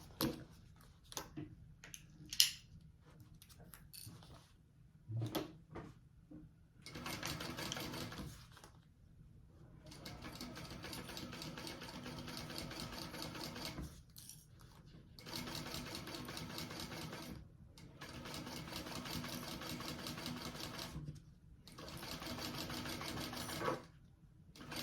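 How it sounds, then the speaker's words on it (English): A sewing machine stitches a bag seam in several bursts of steady whirring, separated by short pauses and a few clicks and handling noises, fairly quiet and close. "I'm gonna sew that at my seam allowance."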